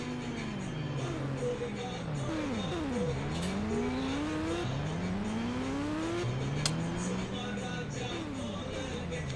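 Several KTM motorbikes pass close by one after another, engines rising and falling in pitch as each one revs through and away.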